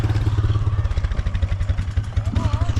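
A Yamaha TTR trail motorbike engine idles and revs on a dirt track, a steady pulsing thump close by, with people talking over it.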